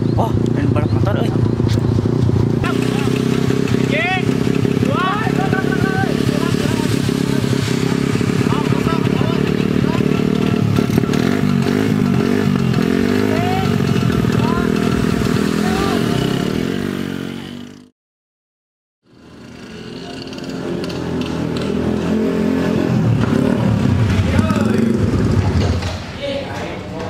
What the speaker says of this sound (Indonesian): Oh, main balap motor euy